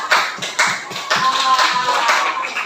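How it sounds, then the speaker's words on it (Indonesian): Children in a classroom applaud a pupil with a short burst of rhythmic clapping, several hands beating in loose unison at close range, the claps rising and fading in quick pulses. "tepuk tangan"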